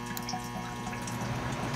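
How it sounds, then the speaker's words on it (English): Inside a Durastill 30J automatic water distiller, the solenoid gives a steady, quiet hum with tonal harmonics as it feeds water, accompanied by faint trickling and dripping water throughout. "This is the buzzing noise that the solenoid makes"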